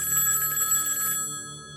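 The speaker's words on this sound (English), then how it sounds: "Then Liam receives the phone call he'd been waiting for" A telephone bell rings in a bright, sustained electronic trill that cuts off partway through, leaving a faint tail behind it.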